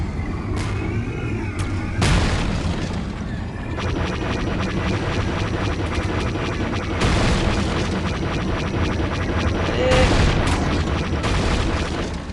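Continuous loud booms and blasts from the X-Wing Flight space combat video game, with dense layered explosions swelling at intervals over a constant rumbling bed.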